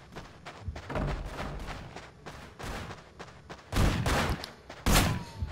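Enemy gunfire in the video game Manhunt, irregular clusters of sharp shots with heavier booming reports rising toward the end, loud and close.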